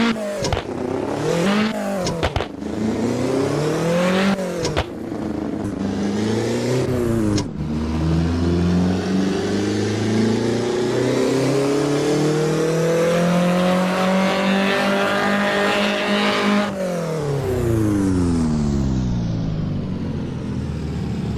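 A car engine in the Assetto Corsa racing game revs repeatedly on a dyno, an N/A engine sweeping up and down in pitch several times before one long loud climb to high revs and a drop off, with no talking.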